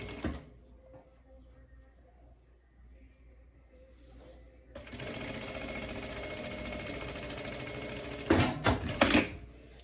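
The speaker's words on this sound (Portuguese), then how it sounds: "E aí, você já consegue costurar ele direto na sua peça" A sewing machine stitches a hem on a hooded bath towel, running in a steady, loud mechanical whir for several seconds after a quieter stretch of soft handling sounds, ending with a few louder bumps.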